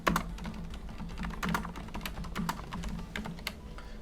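Keys clatter on a computer keyboard as text is typed, a quick irregular run of light clicks with a few heavier taps, close up and moderately quiet over a faint steady room hum.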